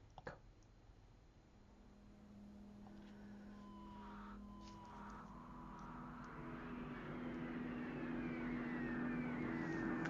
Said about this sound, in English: Something's landing.